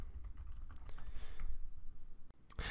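Close, quiet typing on a computer keyboard while writing Scala code: a quick run of soft key clicks ending in a couple of sharper taps, with no talk.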